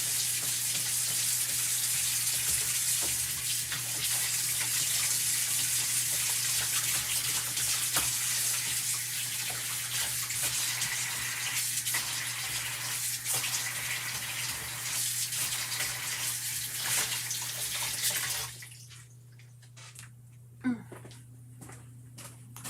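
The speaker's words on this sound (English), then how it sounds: "I'm just going to go and wash my ink off," A tap runs steadily for about eighteen seconds as ink is washed off by hand, a broad close rush over a low hum, then the water cuts off, leaving a few faint knocks.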